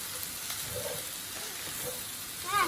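Fried rice with soy sauce sizzles steadily as it is stirred in a frying pan, giving a constant close hiss of frying with soft scraping movements and a brief louder clatter near the end.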